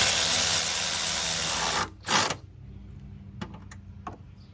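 A power tool spins a socket on an extension to tighten bolts during a GM minivan radiator replacement, a steady whirring burst that cuts off, a short second burst, then faint clicks and handling noises.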